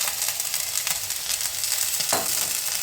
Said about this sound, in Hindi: मैं थोड़ी सी अरबी फ्राई कर लेती हूँ।